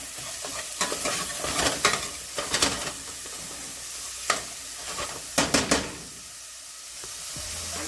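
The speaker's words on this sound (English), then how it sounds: "Now we've got our veggies in the pan." Vegetables sautéing in a hot pan for chicken and sausage étouffée, a steady sizzle broken by several sharp scraping stirs of a utensil against the pan, close and clear, with no talking.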